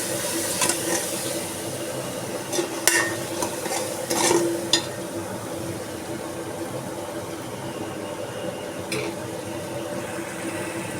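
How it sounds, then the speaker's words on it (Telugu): A spoon stirs chili powder into chicken masala in a pan, giving steady close scraping and stirring with faint frying under it and a few sharper clinks, no voices. "బాగా కలుపుతామండి."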